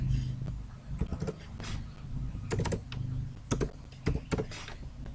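Quick bursts of close, crisp key clicks as someone types on a computer keyboard in MS Word, over a steady low hum of room noise.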